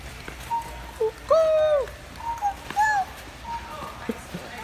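A man imitating a dove with his voice, giving a few soft cooing bird calls in short separate phrases with quiet gaps between them.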